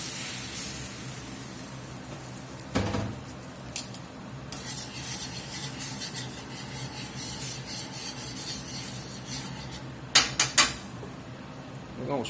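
Heavy cream poured into a bourbon pepper steak sauce in a pan, heard as a low bubbling sizzle with scraping stirring strokes and a few sharp utensil clinks on the pan.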